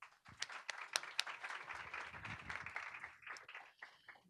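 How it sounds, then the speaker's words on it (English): Audience applause in a panel discussion hall, a steady dense patter of many hands clapping at moderate level for several seconds, with a few sharper individual claps standing out. "Please give them a big round of applause."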